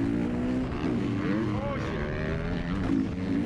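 A two-stroke motocross bike engine wails close up during a race, its pitch rising and falling as the rider pushes hard, with a steady roar and wind throughout.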